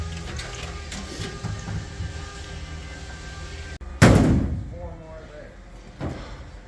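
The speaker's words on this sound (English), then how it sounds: "these guys are knocking out all the bolts and screws." Workers gutting a Bombardier Snow 75 knock out its bolts and screws. One loud, sharp metallic bang rings out over a steady workshop hum and fades slowly, with a fainter knock after it.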